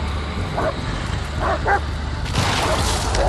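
Dog in the Blair Witch horror game giving a few short barks and yips at mid distance over a constant low rumble of forest ambience, with a brief burst of noise near the end.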